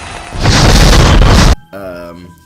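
A loud, dense explosive burst rolls continuously for about a second like a close fireworks barrage, then cuts off abruptly to a quieter tonal tail.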